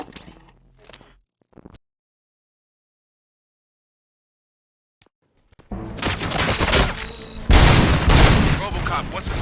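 Gunfire in the video game RoboCop: Rogue City, a brief opening burst followed by near silence, then dense, loud sustained shooting and impacts filling the last few seconds.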